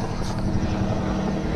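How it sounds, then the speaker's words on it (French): A small helicopter flying near a small airfield in the Dordogne, a steady droning whir with no changes, heard from a distance under a continuous outdoor wash. "D'ailleurs il y a un petit hélicoptère."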